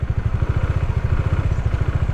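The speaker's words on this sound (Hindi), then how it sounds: "दिख रहा है इंजन आवाज़ चेंज कर रहा है" Motorcycle engine running close and loud with a rapid, even low thump as the clutch is let out, the pulse holding steady throughout.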